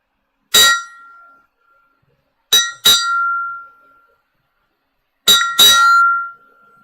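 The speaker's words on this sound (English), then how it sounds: "So we're going to ring the bell and then take time to remember right now." A bell is struck three separate times at intervals, first a single ring, then two quick strikes, then a near double strike again, each a bright metallic clang with a ringing tone that decays over a second or so, with silence between.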